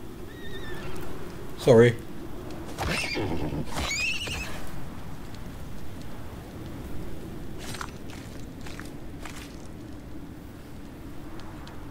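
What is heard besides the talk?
baby horse in video game Icarus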